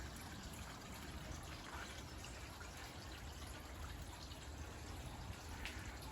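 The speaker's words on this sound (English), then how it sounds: "Water feature went in for this year." Water trickling gently from a garden water feature in a U.K. tropical-style garden, a faint, steady wash with soft splashy detail and no voices.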